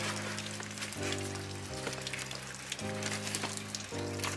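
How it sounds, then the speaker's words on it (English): Rain falls steadily outside, a soft continuous patter heard from indoors beneath a low humming tone, with no voices present. "It is raining out."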